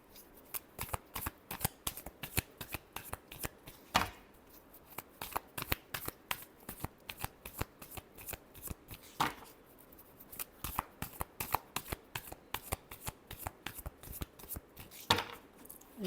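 Tarot cards are shuffled by hand in quick, soft riffling bursts, a rapid papery flutter repeating steadily with a few sharper snaps, close and quiet with no talking.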